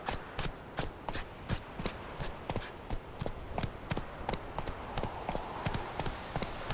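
Horse hooves clip-clop in a fast, steady galloping rhythm in the video game The Witcher 3, each hoofbeat sharp and evenly spaced, fairly quiet and continuous with no talk over it.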